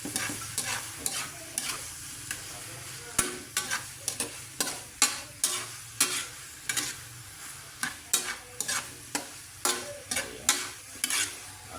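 Beaten egg and bitter gourd are stirred in a sizzling pan, with a steady run of sharp, rhythmic spatula scrapes close up over a constant low frying hiss.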